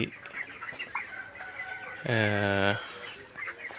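Broiler chicks 24 days old, of the Alma and Aman company, on a poultry farm, with one loud near harmonic call lasting about a second amid a background of faint clucking and rustling.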